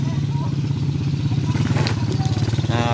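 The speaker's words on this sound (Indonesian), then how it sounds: "Motor langsung ke bawah." A motorcycle engine runs nearby as it heads downhill on a village road during a wedding procession, a steady loud rumbling putter with a clattering edge and a higher buzz near the end.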